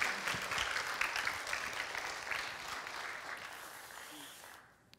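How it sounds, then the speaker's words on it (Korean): A church congregation at a Wednesday prayer service claps to welcome a missionary coming forward, a moderately loud, even patter of many hands that fades out at the close. "우리 박소연 선교사님 나오실 때 힘차게 박수로 환영해 주시면 감사하겠습니다."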